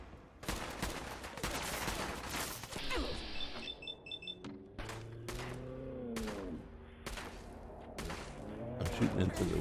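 Rapid gunfire in a Fallout 4 fight rattles loud and close, with repeated sharp shots and bursts spread across the scene and someone talking intermittently underneath.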